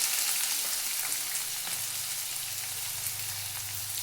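Peanuts frying in hot oil for bhel give a steady, dense sizzle and crackle close by, even in level with no pauses and no voices.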